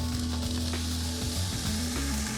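Sirloin steak sizzling on a grill right after a quarter turn: a steady, continuous broadband hiss with a low hum beneath, loud and close throughout.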